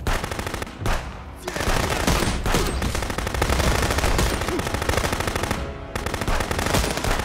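Rapid automatic gunfire in the video game Contraband Police, loud, dense bursts of shots rattling almost continuously with only brief gaps between them.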